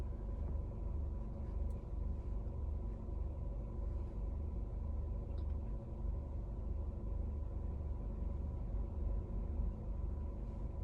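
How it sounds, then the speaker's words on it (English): A parked car's engine hums steadily from inside the cabin, a low, constant rumble with no change in pitch or loudness throughout. "my bad if y'all hear my car"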